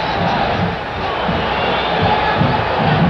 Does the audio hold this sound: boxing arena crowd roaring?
yes